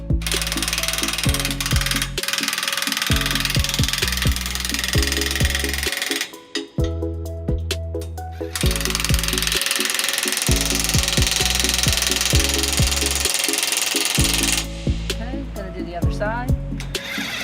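Hand tools turn the front mount hitch bolts on a 2014 Toyota Tundra, producing repeated rhythmic ratcheting clicks close by, broken by short pauses, over constant loud background noise.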